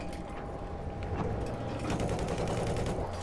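Battlefield 4 gunfire crackles as rapid automatic bursts of shots, steady and moderately loud, layered over dense in-game battle noise.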